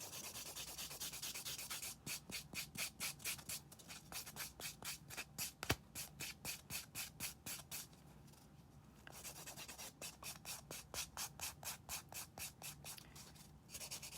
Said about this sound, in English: I'm going to buff the shine off these nails as well.